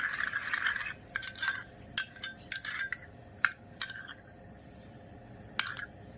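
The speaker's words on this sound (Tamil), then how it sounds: "எசென்ஷியல் ஆயில் போட்டோம், நல்லா இதை மிக்ஸ் பண்ணுறோம்" A saffron niacinamide face cream with added essential oil being stirred, giving irregular light clinks and taps of a utensil against the container, scattered over a quiet background.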